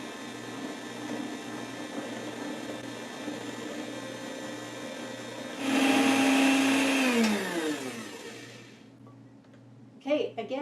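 Electric mixer on slow creaming butter and powdered sugar, a whirring motor under quiet background hum that swells for a couple of seconds, then winds down to a stop, followed by brief clatter.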